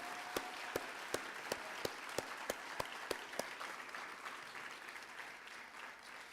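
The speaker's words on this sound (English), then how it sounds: "Let's applaud them again," A small audience at a summit claps in a quick run of sharp, evenly spaced claps for a choir that thin out, leaving a faint hum behind.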